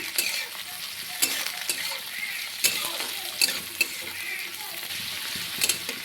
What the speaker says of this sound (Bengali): পেঁয়াজ আর কাঁচা লঙ্কাটাকে একটু ভাজা ভাজা করে নিব আমি।